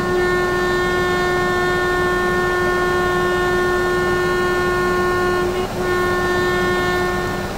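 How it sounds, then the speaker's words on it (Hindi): A train in Trainz Simulator 12 sounds a long, steady horn over the rumble of the running train, the horn cut off briefly near the end before resuming, loud and close. "मुझे हॉर्न वगैरह का साउंड आ रहा है ट्रेन का"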